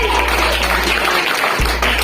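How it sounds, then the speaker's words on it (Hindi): Seminar audience applauding continuously at a business-building event in India, a dense steady wash of many hands clapping that holds loud throughout with no clear voices on top. "तालियां बजती रहनी चाहिए"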